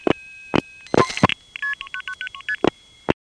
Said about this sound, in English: Vesey Tandem 2 has especially loud MFs, just as it has loud dial pulsing